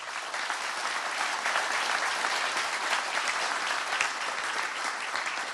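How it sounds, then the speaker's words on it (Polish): Sustained, dense applause from a large crowd at a Polish political event fills the space evenly, a loud unbroken wash of clapping without a break. "Wielkie brawa dla Radka Sikorskiego."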